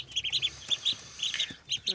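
Bantam chickens feeding on a farmstead give repeated high chirps and soft clucking calls in quick, irregular bursts, fairly close and moderately quiet, with a low background rumble.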